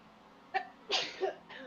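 A single sharp sneeze bursts out near the end after a couple of short breathy sounds, close and loud.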